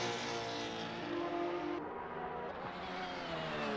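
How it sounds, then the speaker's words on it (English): A Porsche 992 GT3 R race car's flat-six engine howls at a steady high pitch during the 2023 Nürburgring 24 Hours race, loud and continuous, with a slight shift in tone midway. "the lovely sounds of the flat 6 of the 992 GT3R"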